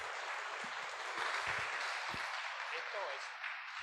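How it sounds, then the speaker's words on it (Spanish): A church gathering opening the month of the Bible gives a soft welcoming applause for the bishop, a faint, distant patter of many hands with murmured voices mixed in. "Le damos un fuerte aplauso de bienvenida y le agradecemos su presencia"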